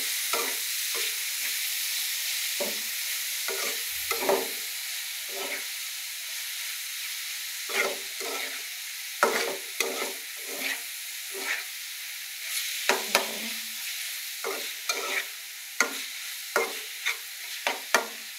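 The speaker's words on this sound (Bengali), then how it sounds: "সেই থোড়গুলো দিয়ে আমি ভালোভাবে এগুলোর সাথে মিক্স করে নেব" Boiled banana stem stirred into prawns frying in a pan: a soft background hiss with a series of scraping, clattering spatula strokes that grow more frequent toward the end, close by and without speech.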